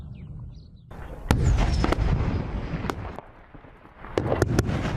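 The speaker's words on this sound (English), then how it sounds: "We can still hear intermittent gunfire" Intermittent gunfire in a battle at Baghouz, Syria: sharp distant cracks and bursts of shots, several isolated reports and a clustered volley near the end, over a rumbling outdoor background.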